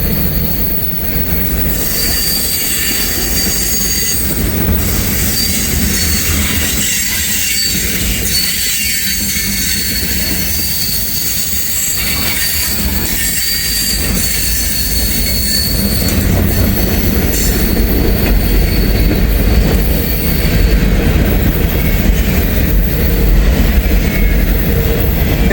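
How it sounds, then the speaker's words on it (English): A loaded freight train descends a steep grade under locomotive dynamic braking. A loud, steady rumble of rolling cars carries sustained high wheel squeal throughout, and the train stays close and continuous. "You can tell he's using that locomotive and the dynamic braking properties pretty good."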